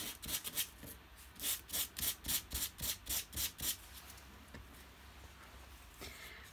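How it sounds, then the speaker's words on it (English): Top coat is sanded off embossed cardstock in rhythmic back-and-forth rubbing strokes, about a dozen close scratchy passes in a steady run before trailing off into quiet. "I'm sanding away the top coat and revealing the bottom one."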